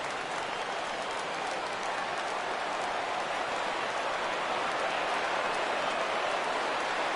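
A baseball video game crowd roars in a steady, broad wash of cheering and applause at a full count with two out, sustained and even throughout without distinct voices.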